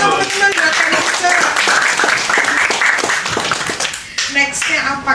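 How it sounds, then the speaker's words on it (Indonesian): An audience claps steadily at a sharing session, a lively run of hand claps with a voice speaking over them partway through. "Tepuk tangan boleh dong teman-teman buat Kaminca"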